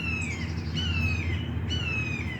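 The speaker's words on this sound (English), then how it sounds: "you hear the birds?" Birds chirp outside on a drizzly day, with three clear descending whistled calls repeating at a steady pace over a constant low background hum.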